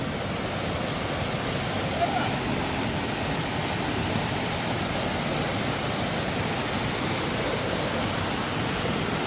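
A small waterfall fills the air with a constant, close rush of falling water, an even roar that holds steady without pause.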